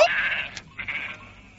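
A sheep bleats from a flock, a wavering cry followed by a shorter second bleat, fairly close and clear with no speech over it.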